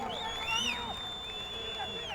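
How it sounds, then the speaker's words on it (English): Crowd of VIPs out on a balcony at a canoe sprint World Cup regatta in Montemor-o-Velho cheers a race victory, a distant, continuous wash of voices and whistles running steadily through the short stretch. "And you can hear in the background the whole crowd."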